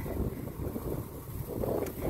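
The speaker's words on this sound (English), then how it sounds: "It's windy here." Steady, heavy wind buffeting the microphone, a continuous low rumble with gusty swells and no voices.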